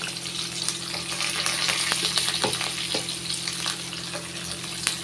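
Onion and curry leaves fry in oil for a country-chicken water curry, giving a continuous close sizzle with faint stirring scrapes and a few crackles, and no voices.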